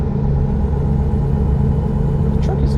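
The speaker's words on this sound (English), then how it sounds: "The truck is louder today" Truck engine in a driving simulator game on the road in New Mexico, a steady loud low rumble droning throughout with no change in pitch.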